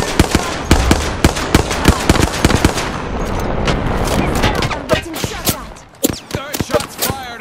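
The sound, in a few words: gunfire in the video game Apex Legends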